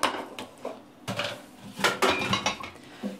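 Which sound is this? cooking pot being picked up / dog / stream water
cooking pot being picked up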